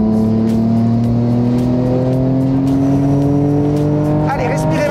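A Nissan GT-R R34 engine pulls hard under acceleration, its loud, smooth drone climbing steadily in pitch through a single gear, close up.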